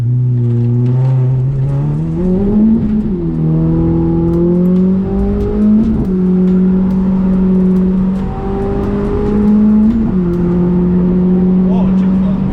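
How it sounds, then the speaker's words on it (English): A Pontiac GTO accelerates down a drag strip with a slipping clutch, the loud engine droning and climbing in steady upward sweeps through each gear with brief dips at the shifts, heard from inside the car with voices over it. "you can definitely hear the clutch slip all the way down the track"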